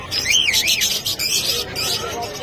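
Cockatiels and lovebirds, some of them opaline and lutino birds, fill a shop or aviary with constant high chirps and whistles, several birds calling over each other close by.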